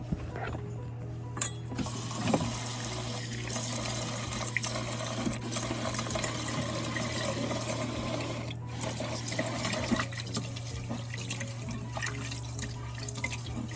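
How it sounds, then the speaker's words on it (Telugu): Basmati rice is washed under running water in a kitchen, the steady faucet stream mixed with sloshing grains and the light clinks of a pot, alongside a constant low appliance hum. "సో బియ్యం కడిగేస్తాను."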